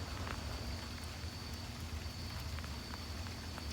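Rain falls outdoors during a thunderstorm, a faint steady hiss of drops spattering on surfaces with light low rumble beneath, continuous and with no speech.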